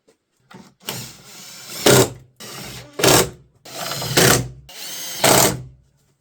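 A power tool drives screws into a 2000s BMW E46 with the M47 110 kW diesel during MAP sensor work, giving four or five loud, close whirring bursts separated by short pauses, with no talking.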